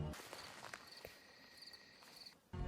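Insects chirping in the VR survival horror game The Forest, a faint steady high trill running under soft footsteps and light rustling.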